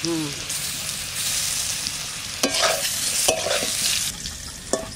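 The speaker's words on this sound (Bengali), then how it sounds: "দিদি এদিকে নাড়া দিচ্ছে আর আমি এদিকে মশলাটা বেটে নিচ্ছি।" Fish and cauliflower curry being stirred in a pan, made with a freshly caught river kalbaush carp, giving a steady frying sizzle with a few scraping stir strokes, close and fairly loud.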